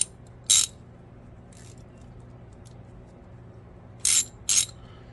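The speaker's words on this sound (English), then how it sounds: "so that's a Sears ratchet" A vintage Sears ratchet gives three short bursts of rapid clicking, one early and two close together near the end, crisp and close with quiet in between.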